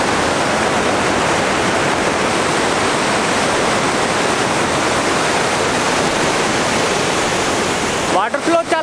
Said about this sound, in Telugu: వాటర్ ఫాల్ చాలా పెద్దగా ఉంది, చిన్నగా ఉంటుందేమో అనుకున్నా. సౌండ్ కూడా చాలా ఎక్కువ వస్తుంది.